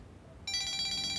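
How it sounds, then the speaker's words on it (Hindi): A telephone suddenly starts ringing with an incoming call, a bright electronic ringtone that cuts in after a short quiet moment and keeps going steadily, clear and fairly close. "दुआ की सास का फोन आ रहा है, मरियम साहिबा का।"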